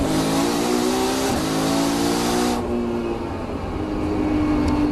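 Classic race cars, including Nissan Skylines, pass at Oulton Park circuit, their engines roaring loudly with layered harmonic whine, then fading as they pull away while another engine note continues behind.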